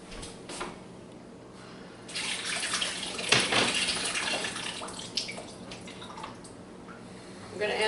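Warm water runs from a kitchen tap into a cup while baking a braided strudel, a soft trickle that swells into a louder, splashing stream with a few brief clinks, with no talk over it.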